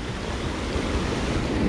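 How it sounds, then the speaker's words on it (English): Water pouring out from a cave beneath a rock ledge on the Rose River in Shenandoah National Park, a dense, steady rushing roar close to the microphone, with no talk. "You can see the water comes out"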